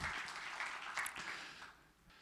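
Faint applause from an audience at a demo day presentation, with soft scattered clapping that tapers off over about two seconds.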